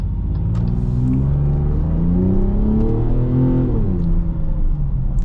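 A 550 hp 2026 Dodge Charger Sixpack engine pulls hard under acceleration, its loud rising engine note climbing through the gears with a brief dip as it shifts, then settling again. It is heard close from inside the cabin and stands alone with no talk.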